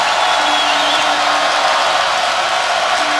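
A basketball arena crowd at a Baylor Bears versus Kansas Jayhawks game roars in a loud, continuous, dense wash of cheering that holds steady throughout.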